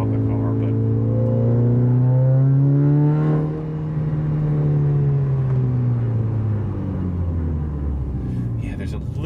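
A Mitsubishi Evo 8 engine drones loudly through an aftermarket exhaust with a low, rough, slightly flatulent note that rises and falls steadily throughout, with a voice faintly mixed in.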